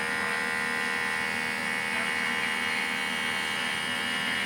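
A vacuum sealer pulls air from a jar of preserved squash or okra, a steady loud electric motor drone with a high whine that holds constant throughout, close and without talking.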